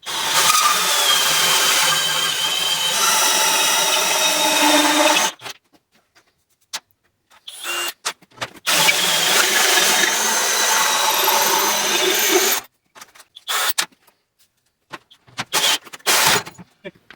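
Power drill or hole saw cutting a 2-inch hole through 14 gauge steel, a steady whining grind running about five seconds, then short stop-start bursts and a second long cut, separated by silent gaps.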